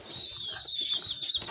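Young birds around a month old calling while being hand-fed corn, a thin, high, continuous cheeping close by that wavers slightly, with no talking.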